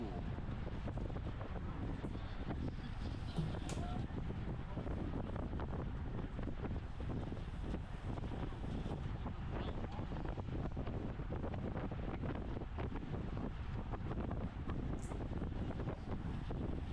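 Strong wind funneled between tall buildings during an open 50+ bicycle race in California, a steady roaring rush buffeting the microphone for the whole stretch.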